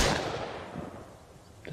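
A single loud gunshot in the survival game Mist Survival cracks at the start and decays into a fading echo, with no talk.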